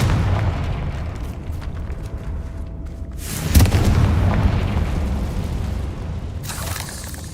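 A Confringo spell explosion in Hogwarts Legacy, a loud booming blast with a rumbling low tail over continuous game background noise, followed by a softer burst near the end.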